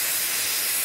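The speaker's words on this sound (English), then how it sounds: "You can see and watch all the steam that is about to come out right now." Steam hisses loudly out of a steam locomotive on a heritage railway, a short, dense, continuous high-pitched rush at close range with no voices.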